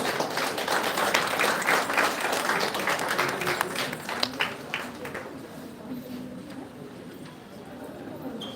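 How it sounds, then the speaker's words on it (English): Applause at a national seminar's inaugural session, greeting a keynote speaker: a steady wash of clapping from a large audience, heard somewhat distant and reverberant, thinning toward the end with faint voices underneath. "Please give a huge round of applause for him."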